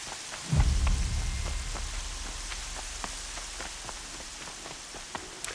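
Steady rain falling in the Horizon Zero Dawn game world, a continuous hiss with scattered drop ticks and a low rumble swelling near the start, with no talk over it.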